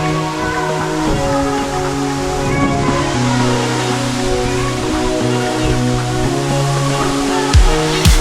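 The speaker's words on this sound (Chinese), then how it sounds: "站在瀑布下面，让水汽打在我们身上，非常凉快。" The Rainbow Waterfall in Dongpu, Xinyi Township, Nantou, rushes with heavy water flow after rain, producing a loud, steady roar heard up close and alone throughout.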